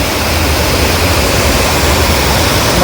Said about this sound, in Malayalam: വെള്ളം ഇങ്ങനെ പതഞ്ഞൊഴുകണത് കണ്ടില്ലേ.